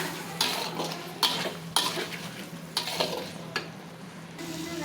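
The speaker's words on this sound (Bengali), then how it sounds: "প্রথমে আলুটা দিয়ে দেবো আলুটা ভালো করে ভেজে নিয়ে" Fried potatoes being stirred in a pan with a utensil, several distinct scraping clanks over a soft background sizzle, fairly quiet and close, with no speech.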